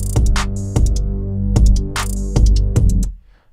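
Lo-fi drum loop bounced down to one track, punchy kicks and crisp hi-hat and snare hits repeating in a steady groove, loud and close, cutting off abruptly near the end.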